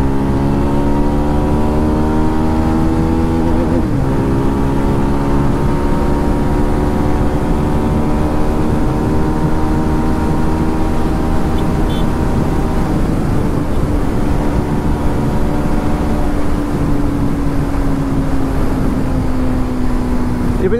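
Steady, loud engine note of a Zontes 350R motorcycle held at top speed, a continuous drone with slowly shifting pitch and rushing wind throughout, no talking.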